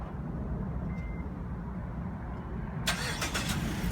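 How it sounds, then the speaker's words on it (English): A 2015 Mazda CX-5 engine starting by remote start: a steady idle-like rumble fills the clip, with a brief burst of cranking and catching near the end as the engine fires up. "the vehicle starts up"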